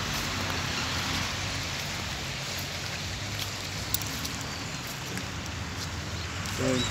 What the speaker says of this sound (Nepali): यसरी व्यापक रूपमा हेर्नुहोस् अहिले असिना पानी